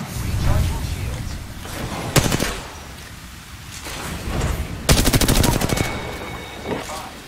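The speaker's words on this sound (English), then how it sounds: "Getting shot at." Video game gunfire in a ranked match: sharp automatic bursts, one short volley and a longer rattling stream later, loud and close over constant game noise and talk.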